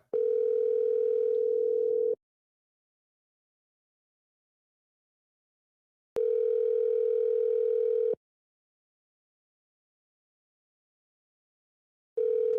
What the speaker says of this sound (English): Vons, that's your phone.